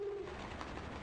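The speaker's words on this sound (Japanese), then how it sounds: "あ、ハト。" A pigeon coos softly in the video game Yuuyami Doori Tankentai, a faint call heard briefly over a steady ambient background hum.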